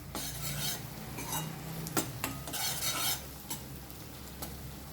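Ginger garlic paste frying in a pan for fish pulusu, stirred with a spoon that scrapes the pan in several strokes over a steady low sizzle, close and alone without talking.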